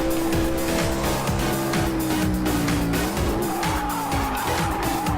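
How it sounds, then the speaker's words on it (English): A NASCAR stock car in a Le Mans racing video game, loud engine with continuous tire squeal as its brakes lock up, the screech sliding in pitch over steady motor roar, with no talk. "I have to lock up the brakes again."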